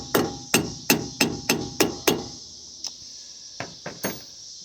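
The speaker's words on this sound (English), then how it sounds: "That's a good hammer." Hammer striking metal during an ignition switch replacement on a pickup truck: a rapid run of seven sharp, ringing blows, then a pause and a few lighter scattered taps, close and loud with no talk.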